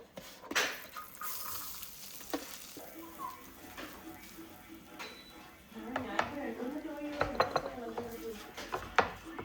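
Rice gets stirred in the same pot used to cook chicken, a spoon scraping and clinking against the metal over soft sizzling, with a voice talking intermittently nearby.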